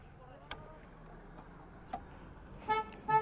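Near the end, a vehicle horn gives two short toots on a hill road at Pagoda Point in Yercaud, preceded by quiet outdoor ambience with faint ticks.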